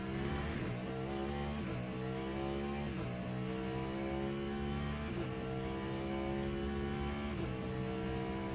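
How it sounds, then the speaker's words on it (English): A Cadillac race car in Le Mans Ultimate roars steadily at high revs, a dense, sustained engine tone with brief dips around gear shifts and no voices over it. "I'm just going to listen to this Cadillac roar for a little bit."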